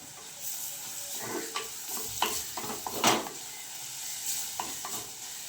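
Turmeric powder being sautéed in a pan for Kerala-style egg curry, with soft stirring scrapes and a faint sizzle that swell in a few brief bursts, close up, with no talk.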